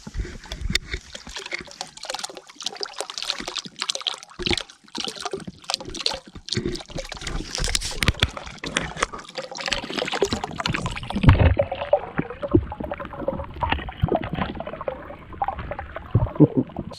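Water and golden trout poured from jugs into an alpine lake, irregular splashing and trickling close by, gurgling bursts that thin to lighter dribbles near the end, with no speech.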